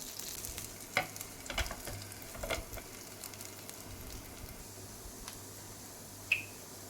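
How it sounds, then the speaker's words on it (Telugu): Sweet corn patties frying under a lid in a pan, a soft, low sizzle with occasional sharp pops and crackles standing out now and then, faint and steady throughout. "మళ్ళా మూత వేసి మూడు నుంచి నాలుగు నిమిషాలు వేయించుకోవాలి"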